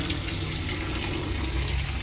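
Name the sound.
water running from a tap while washing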